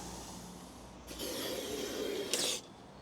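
Aerosol spray can held upright and sprayed into the drain holes along the bottom of a Land Rover Defender 110 door, a quiet hiss that starts after a second, swells, and ends in a brighter closing burst.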